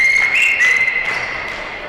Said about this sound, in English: going to whistle. No problem hearing him tonight.